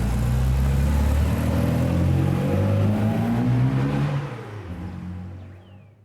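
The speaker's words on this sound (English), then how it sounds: "steps on the gas and takes the Mini Cooper for an evening spin" A Mini Cooper pulls away on an evening drive, its engine revving loud and close with rising tones before the sound eases and fades as the car moves off.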